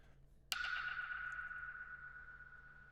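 A dub echo effect rings out after a sharp hit, leaving a long, thin, steady tone that slowly fades over a few seconds, faint and alone.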